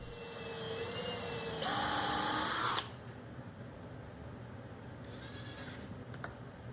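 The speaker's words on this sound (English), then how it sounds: "I have to drill a 3/8 inch hole on the front of this jig" A power drill bores a 3/8 inch hole in a wooden router table jig, whining steadily and then rising in pitch before stopping abruptly, with a brief second burst later, close and moderately loud.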